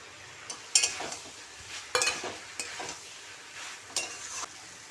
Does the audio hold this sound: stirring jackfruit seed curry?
yes